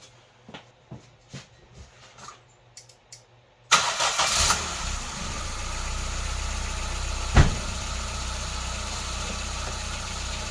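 A few light clicks and taps come first, then a car engine cranks and catches with a loud burst and settles into a steady, close idle with one brief knock partway through.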